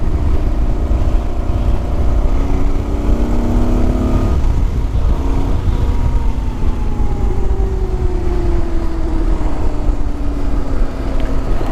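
A Moto Guzzi Quota motorcycle runs under way with a loud, continuous engine drone, its pitch rising and falling with the throttle, heard close up with steady wind rumble underneath.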